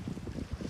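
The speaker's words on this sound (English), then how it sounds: "it's getting kind of windy out here" Steady low wind buffeting the microphone, a dense rumbling roar with gusty swells and no voices.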